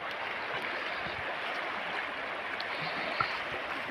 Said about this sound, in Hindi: यहाँ पे जल का बहाव बहुत ज़्यादा है